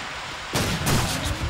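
A trench shotgun fires in Call of Duty 2 online play, one sharp loud blast followed by a second burst and echoing tail, cutting abruptly through low background ambience.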